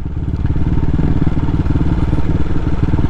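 A CCM Flat Tracker Classic motorcycle engine runs loud and close, a steady throbbing rumble with rapid pulsing that holds constant throughout, heard from a helmet camera.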